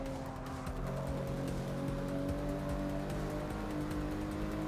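A BMW M2 in the racing game Forza 6, heard from the cockpit, runs its engine with a steady hum and turbo note underneath, fairly quiet and continuous without breaks.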